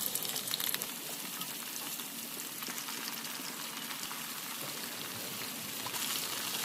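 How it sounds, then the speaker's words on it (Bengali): Fish pieces frying in oil over low heat, a continuous crackling sizzle with fine popping spatter, steady and close throughout with no talking. "এবার তেলের মধ্যে মাছগুলোকে অল্প আঁচে ভেজে নেব।"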